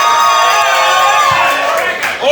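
A comedy roast battle crowd cheers and whoops loudly and continuously, a dense mass of voices that trails off slightly at the end.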